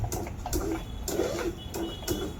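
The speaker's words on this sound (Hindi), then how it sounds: "फिर वापस हमारा 4 पे रखेंगे और यहाँ पे आड़ा सिलाई करेंगे 4-5 राउंड चला के मशीन" Singer automatic sewing machine running a few rounds of cross stitching, a steady mechanical whir with soft rhythmic ticking pulses roughly every half second, close and moderately loud with no talk.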